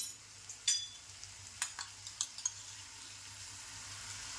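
Finely chopped tomato dropped into frying onions in a pan for a prawn masala, a faint steady sizzle broken by several soft clinks and stirring knocks, with no speech.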